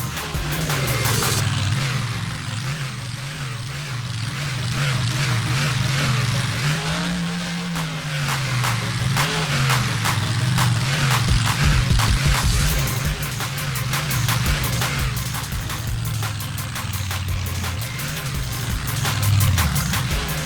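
Bigfoot monster truck in the Rigs of Rods sim at a stadium freestyle event, its engine roaring and revving continuously, loud and close, with rising and falling pitch as it powers through jumps and wheelies.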